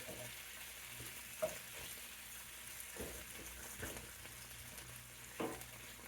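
Sliced potatoes fry in oil in a regular skillet for tortilla española, giving a steady close sizzle. Occasional louder scrapes and knocks mark them being stirred and moved around the pan.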